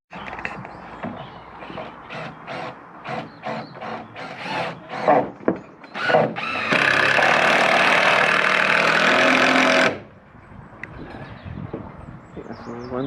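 Screws being driven into wood with a power driver, a burst of short whirring pulses followed by one long sustained loud drill run of about three seconds, close by, with some handling noise around it.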